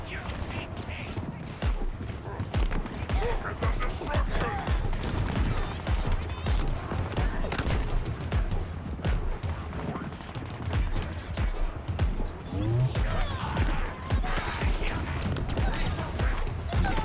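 Rapid bursts of gunfire from a weapon in Halo Infinite, dense and continuous across the whole stretch with repeated sharp shots over a busy game soundscape.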